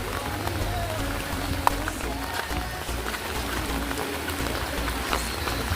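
Steady rain hiss fills the scene at a riverside campsite, with low rumbling river flow underneath and a few faint sharp knocks; no talking.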